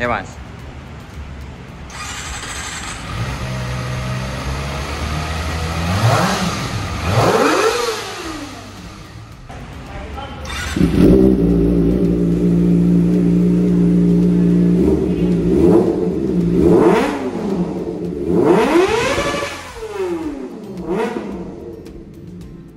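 Kawasaki Ninja ZX25R with its stock exhaust, the engine idling and then revving in repeated rising and falling sweeps, loud and nearby, while a person talks briefly over it.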